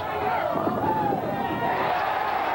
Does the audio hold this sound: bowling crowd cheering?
yes